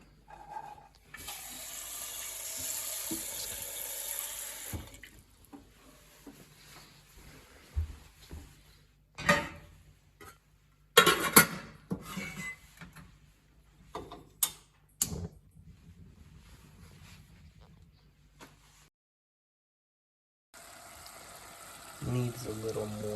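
Water from a kitchen tap pours into a pot of crab apples during jelly making, a steady splashing fill that starts and stops between clanks and handling noises, with a voice speaking faintly nearby.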